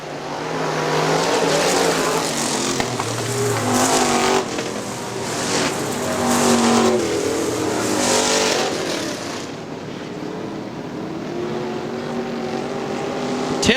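Super stock racing car engines roar past in loud waves on the Hartford Speedway Park oval, rising and falling as several cars circle the track, with a continuous high-revving drone.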